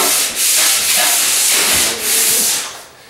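A plastered ceiling gets a light sanding before skimming, loud close rasping strokes sweeping back and forth in a rhythmic series with short pauses between passes.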